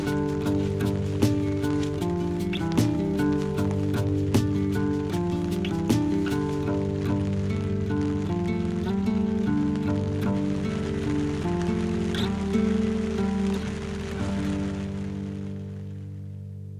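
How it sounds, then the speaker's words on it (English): Rain falls steadily on an overland campsite, a soft continuous patter under a strong steady tonal drone that runs the whole length without pause. "a new convoy of rain clouds commences unloading its cargo onto our camp"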